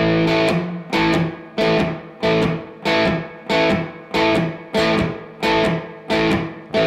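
A distorted electric guitar strums a chord over and over in a steady loping blues shuffle rhythm, each hit starting just before the beat and ringing before the next, loud and close.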